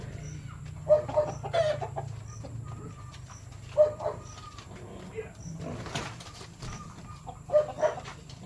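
Hens cluck in short bursts from a chicken coop on a poultry farm, scattered and moderately close, while a person talks over the birds.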